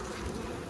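A dense, close buzzing of many honey bees at a winter hive, continuous and fairly loud for a brief moment.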